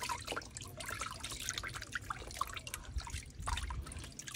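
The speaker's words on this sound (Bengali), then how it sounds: "পাতাটা এখানে ধুবে" Fresh raw tea leaves from a tea garden are washed in water, giving a faint, continuous trickling and splashing with small drips close by.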